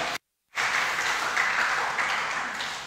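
A church congregation applauds steadily after a prayer, a dense sustained clapping that follows a brief silent gap and fills the room evenly without talk.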